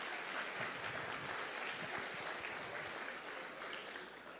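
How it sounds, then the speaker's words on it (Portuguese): A church congregation at an anniversary conference applauds during a service, a faint but continuous patter of many hands that carries on for a few seconds and tapers slightly at the end. "Vamos aplaudir a Deus por esse."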